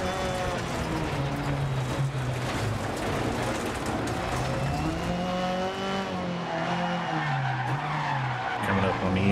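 A rally car drives hard and skids on loose surfaces in the racing game Dirt Rally 2.0. Its engine note rises and falls under constant tire scrub and sliding noise, loud and close for the whole stretch.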